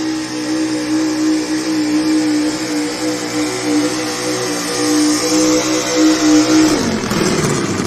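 A 1985 Ford pulling truck roars loudly at a truck pull, engine held at high, steady revs before the note abruptly drops and winds down near the end.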